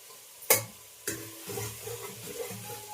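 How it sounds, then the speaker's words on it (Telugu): Ginger garlic paste fries in hot oil with a soft, steady sizzle, broken by two sharp utensil knocks near the start and light stirring scrapes afterward. "అల్లం వెల్లుల్లి పేస్ట్ వెంటనే ఫ్రై అవుతూ ఉన్నాయి"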